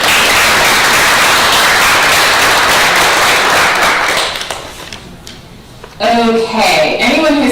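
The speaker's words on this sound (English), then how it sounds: "Another round of applause." Applause from the audience at a city council meeting, a loud, dense and sustained burst of clapping that fades over several seconds before a voice speaks.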